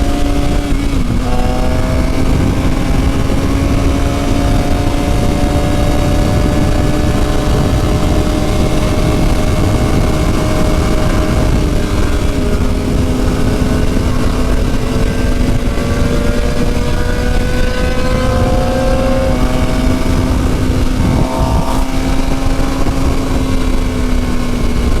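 Up close, a Suzuki GSX-R750 engine rides on steadily, a loud sustained drone with rising and falling pitch as the revs shift, together with heavy wind rush that fills the whole stretch without a break.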